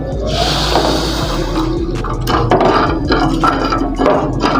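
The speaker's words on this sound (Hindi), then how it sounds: "पैन में हम चीनी शामिल करेंगे, इसी के अंदर शामिल कर देंगे पानी।" Water pours into a pan of sugar on a kitchen stove for an Indian anarsa sweet, giving a continuous splashing gush with a low steady rumble underneath and a few clinks and knocks.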